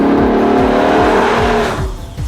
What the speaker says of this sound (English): You step on the gas and it's got a lot of torque and makes a tremendous sound too.